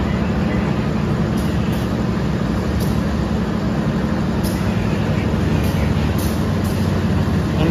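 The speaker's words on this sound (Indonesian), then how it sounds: "Mungkin itu kereta api Blambangan Express dari Pasar Senen tujuan akhir ke Tapang" Blambangan Express passenger train from Pasar Senen, hauled by a Madiun-depot locomotive, arriving with a steady loud low rumble and rolling rail noise throughout, with faint higher squeals breaking through now and then.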